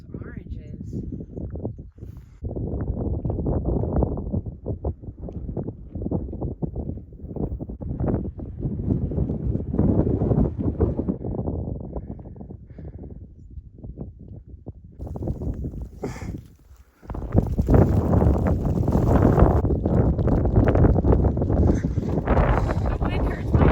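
On a cold, wet Colorado Trail, wind buffets the microphone in heavy, uneven low rumbles that swell and fade, with a strong gust surge near the end, while people talk throughout.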